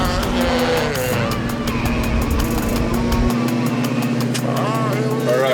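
A Dodge Charger R/T restomod's engine roars loudly while driving, a continuous rumbling drone under music and voices throughout.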